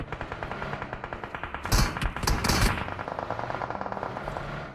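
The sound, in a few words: gunfire in the video game PUBG Mobile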